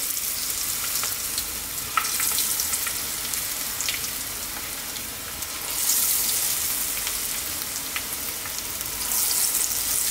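Cauliflower pakora fritters frying steadily in hot oil, a dense continuous sizzle with bubbling crackle that swells in bursts, close and loud, with no talking.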